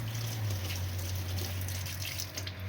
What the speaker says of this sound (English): Just rinse off the cone.